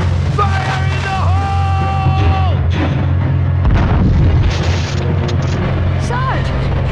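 An explosion in the PlayStation game Army Men: Sarge's Heroes sounds as a deep, rumbling boom midway through, with game voices and sound effects heard around it.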